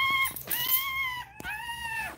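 A dog gives two drawn-out, high, wavering whines or howls, close and fairly loud, with a short break between them and no talking.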